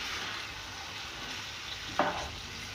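Potato slices fry with masala in hot oil, a steady, dense sizzling hiss that holds evenly throughout, broken by one short utensil scrape near the end, close and without any voices.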